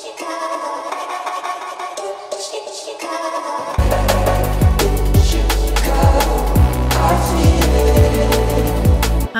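A chopped vocal sample pulses with tremolo and bounces through ping pong delay, doubled an octave higher, inside a liquid drum and bass remix; after a sparse opening, heavy bass and drums enter and the mix fills out loudly.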